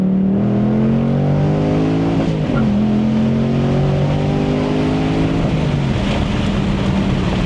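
Ford Mustang Dark Horse with a naturally aspirated engine pulls hard through the gears, its loud, close exhaust note rising steadily, dipping sharply at a gearchange from second to third, then climbing again.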